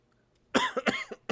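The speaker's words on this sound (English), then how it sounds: "This cough is getting on my nerves." A person coughs in a quick burst of three or four harsh, close coughs after a moment of near silence, the last cough coming slightly apart from the rest.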